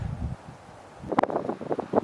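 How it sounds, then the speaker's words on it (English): Wind gusts buffet the microphone in short, rumbling bursts at a farmhouse, briefly rustling before fading and returning. "It's been so windy, it's hard to film."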